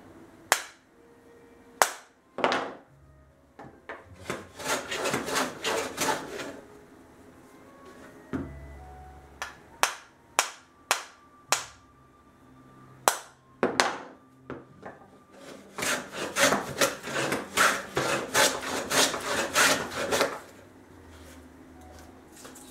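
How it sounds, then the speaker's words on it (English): A reconditioned Sandusky 177 dado plane takes heavy wood shavings, making close, sharp rasping strokes in quick clusters separated by short pauses. "So now we're taking actually a pretty heavy shaving there."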